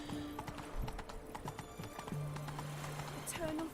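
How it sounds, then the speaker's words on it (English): Horse hooves clip-clop in a steady, close walking rhythm in The Witcher 3 video game, with a brief whinny and game music underneath while a voice talks over it. "That's it, Roach. it's a horse."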